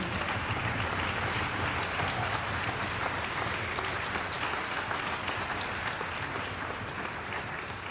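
A steady, full round of audience applause at a Duke University string school concert, many hands clapping densely and evenly for eight seconds, tapering only slightly at the end.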